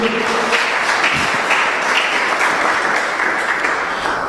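A church congregation breaks into loud, sustained applause, a dense, even roar of many hands clapping that fills the room without pause.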